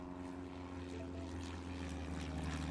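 An airplane takes off in an air traffic control video game, heard as a steady, droning propeller-engine hum with a constant low rumble throughout.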